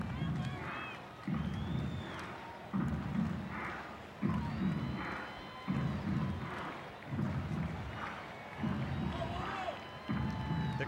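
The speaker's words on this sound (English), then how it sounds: "The crowd is kind of half wrung out at this point. It's pretty quiet for a situation in which you got a chance to win the ball game." Crowd at a 1988 National League Championship Series baseball game between the Dodgers and Mets, a subdued distant murmur behind rhythmic, repeated bursts of low chanting or stamping, with faint shouts over it.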